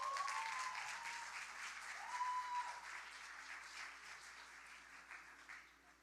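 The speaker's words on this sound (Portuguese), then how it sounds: "uma salva de palmas para essa banda, por favor" Church congregation applauding a band returning from performing, dense clapping that fades toward the end, with faint whistles and cheers early on.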